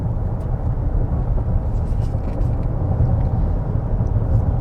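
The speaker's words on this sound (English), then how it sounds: "So foot down. So the 6-cylinder kicks in." The V6 of a 2024 Lexus TX 550h+ plug-in hybrid with a CVT comes in under hard acceleration, a smooth, steady low engine drone heard from inside the cabin with no talking.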